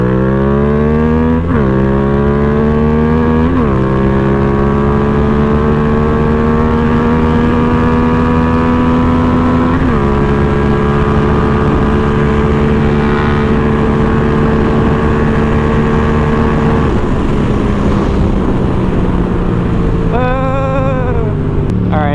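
A Yamaha XSR 700 motorcycle at speed roars loud and close, its engine climbing in pitch through several gear shifts, with steady wind rush and no voices.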